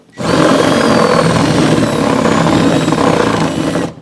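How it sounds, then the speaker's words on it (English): A power drill turns inside a plastic rain barrel, widening a hole that is slightly too small, giving one steady loud whirring grind for about four seconds that starts and stops abruptly. "drill this hole"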